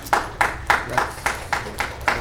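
Applause at a commission meeting: about seven sharp, evenly spaced claps over a couple of seconds, moderately loud and close, with no talk over them.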